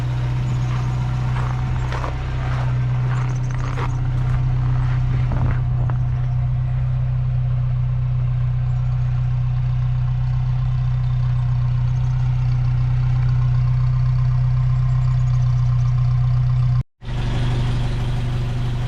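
An 1985 Toyota 4Runner engine idles steadily with a deep, constant low rumble, close and loud, briefly cutting out near the end before resuming.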